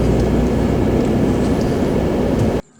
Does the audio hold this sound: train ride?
yes